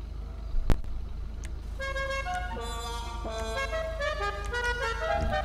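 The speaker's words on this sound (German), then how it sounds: "diese Halloween-Hupen, glaube ich." The Halloween car horn in GTA 5 Online, fitted to an Albany Lurcher, plays a spooky tune of sustained tonal notes over a low engine rumble, after a couple of sharp clicks at the start.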